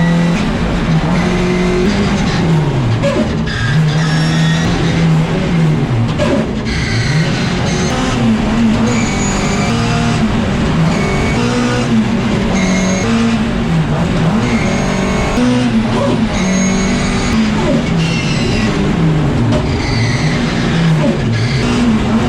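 A Mini race car on a race track, its engine loud and close, revving up and dropping back through repeated gear changes with a continuous roar throughout.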